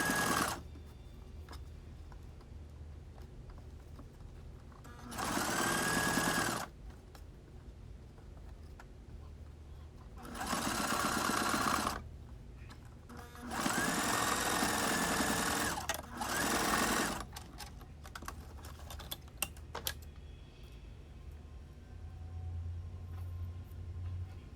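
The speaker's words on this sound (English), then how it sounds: "this is where I'm going to start sewing on the wig at" Sewing machine stitching a closure wig unit, running in three loud bursts of a few seconds each, separated by quiet pauses with faint room noise and no talk.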